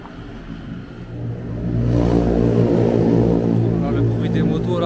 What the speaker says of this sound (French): Des motos là, waouh!